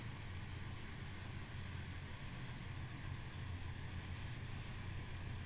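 A Norfolk Southern coal train diesel locomotive in Train Sim 2020 throttling up to start with sanders on, a steady, loud low engine drone with constant rumble and hiss, no voices.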